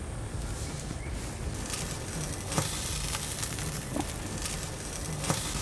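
A rack of lamb sears over a charcoal grill with a steady, soft hiss and crackle, broken by a few faint clicks and pops. No one speaks.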